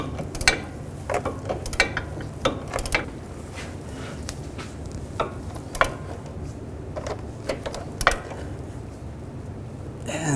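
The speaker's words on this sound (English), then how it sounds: "Then on the inside we can use a wrench, 18mm wrench. And we can tighten this up." An 18mm wrench works a sway bar link nut on a 2010-2017 Chevrolet Equinox, giving a string of light, close ratcheting clicks and metallic taps spread across the span, with no talking.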